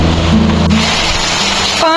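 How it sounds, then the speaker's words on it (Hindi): Heavy rain pours steadily in a hillside village during a sudden storm, a dense loud hiss on surfaces with a low rumble beneath and a faint tonal hum, continuous and close. "कपड़े अंदर अभी रखे ही तो बारिश भी तेज हो गई"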